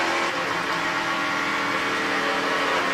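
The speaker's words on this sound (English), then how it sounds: "You hear the car still running." ARCA race car at Kansas, engine still running on pit road with an ignition problem, a steady loud broadband engine drone filling the whole clip with no talk.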